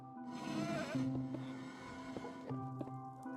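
A Minecraft goat bleats in-game, a wavering nasal cry with harmonic tones over soft game ambience, with a few shorter bleats and clicks following close by.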